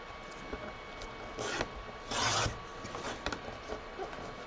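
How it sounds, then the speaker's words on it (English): Junk paper tags are trimmed for a journal, giving a few short, close, quiet rasping cutting strokes with pauses between them and no talk. "I'm just trimming."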